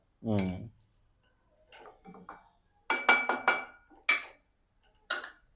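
Rice paper dumpling filling stirred in a pan, scattered clinks and scraping taps of utensil on metal in short bursts, with brief speech from someone nearby at the start.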